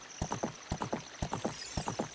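Horse hooves in a fantasy video game clop in a quick, even rhythm of paired hoofbeats, crisp and fairly close over a quiet background.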